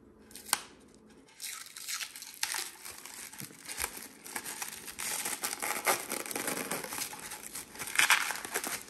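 A RedSea filter fleece roll is handled and pulled at, giving close, papery crinkling and rustling in uneven bursts with a few sharp rips, growing busier toward the end.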